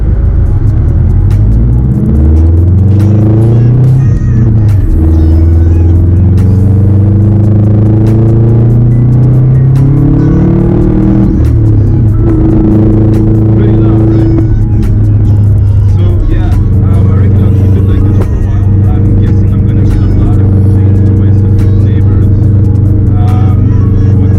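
A Subaru with a loud, modified exhaust revs and accelerates from first gear up through the gears, the engine pitch climbing and dropping repeatedly, close and continuous with a deep rumble.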